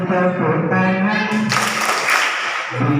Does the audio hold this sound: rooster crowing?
no